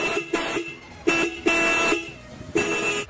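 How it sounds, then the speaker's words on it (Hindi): Horn on a Hero HF Deluxe motorcycle sounds in four loud, steady blasts of varying length, separated by short gaps, with no talking. "मैं फिर आपको हॉर्न बजा के दिखाता हूँ इसका साउंड के साथ है"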